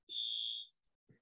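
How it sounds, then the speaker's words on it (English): A fire alarm sounds indoors: one steady, shrill electronic tone held for about half a second, then a faint shuffle after a short pause. No one speaks over it. "That's my fire alarm."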